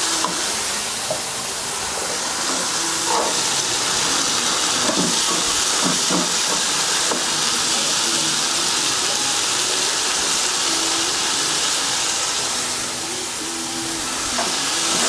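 Green onions fry in a masala in a pan, giving a loud, unbroken hissing sizzle with faint stirring scrapes now and then.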